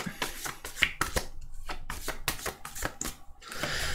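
Tarot cards shuffled by hand at close range, a rapid series of sharp papery riffles and slaps in irregular bursts, no voices.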